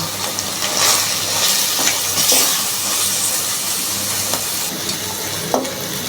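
Slit green chillies hitting a pan of frying prawns and water lily stems, giving a steady close sizzle and hiss with a few soft stirring scrapes and no voices.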